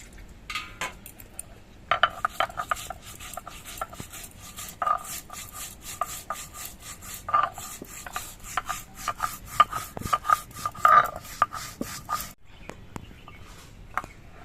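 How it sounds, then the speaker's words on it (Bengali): Fried black cumin seeds are ground into a paste, a steady rasping rub of stroke after stroke with occasional sharper scrapes and clinks, close and fairly quiet, running without talk for most of the stretch. "সেই কালো জিরেটা বেটে নিচ্ছে"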